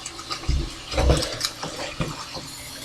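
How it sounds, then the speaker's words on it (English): Water runs from a tap into a double boiler pot in a kitchen, splashing in uneven bursts as the pot fills, close and fairly loud, with no voices. "I'm filling this last double boiler"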